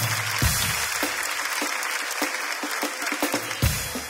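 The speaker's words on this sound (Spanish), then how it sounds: "Un fuerte aplauso, pero fuerte" An audience claps for two people in a long, lively round, with a few sharper, heavier claps and thumps breaking through the steady patter.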